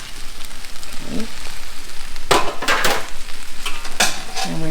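Chow mein noodles stir-fried with bean sprouts, green onions and other vegetables: steady sizzling broken by several loud scraping and tossing bursts as the spatula mixes the pan, close up with no talking.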